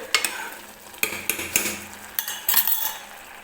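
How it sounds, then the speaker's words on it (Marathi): Kalakand mixture of milk and sugar cooking in a pan, a spoon scraping and clinking against the metal in irregular strokes over a soft background sizzle, close and fairly quiet, with no speech. "तर हे व्यवस्थित आपल्याला साखर याच्यामध्ये विरघळोपर्यंत हे मिश्रण अगदी घट्टसर होईपर्यंत शिजवून घ्यायचं आहे."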